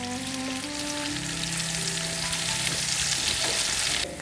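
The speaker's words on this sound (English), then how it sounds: "So now it's frying, everything is melted, and it's done to be set aside." Sage leaves frying in melted butter in a pan for ravioli, a dense continuous sizzle and crackle with occasional spatters, close and steady, a faint tonal hum beneath and no talking.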